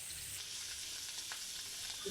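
Pabda fish rubbed with turmeric, chili and salt frying in hot oil, giving a steady, even sizzle with no voices.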